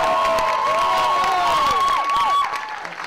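An audience applauds and cheers for cherry blossom queen pageant candidates, a steady crowd roar of clapping with bright tonal sounds threaded through it, easing off near the end.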